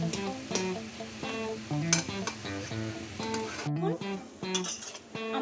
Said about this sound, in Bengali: আমাদের এই তো মাছ সেদ্ধ এইরকমভাবে বেশ একদম ভাজা ভাজা হয়ে গেছে